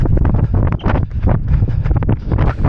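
Strong gusty wind buffets the microphone during a downhill 10K road race, loud rumbling blasts pulsing irregularly and close throughout.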